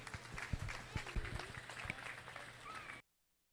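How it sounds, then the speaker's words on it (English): An audience claps at a 4-H beef show in a show barn, scattered hand claps spreading into a short round of applause over a steady low background hum before cutting off abruptly. "Let's give them a round of applause again, please."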